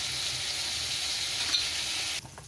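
Diced potatoes frying in hot oil with salt and turmeric added give a steady, close, even sizzle that runs unbroken before cutting off abruptly near the end, leaving only a few faint scrapes.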